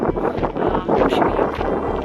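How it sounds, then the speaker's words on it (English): Strong wind gusting across a cliff top during a snowstorm in the Faroe Islands, a steady loud roar buffeting the microphone for a couple of seconds, with no voices. "A snow cloud comes and hits you, and the wind is very strong."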